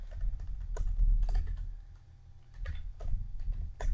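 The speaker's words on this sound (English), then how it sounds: "let me type this way" Typing on a computer keyboard, a quick run of close, crisp key clicks with short pauses between bursts and no talking.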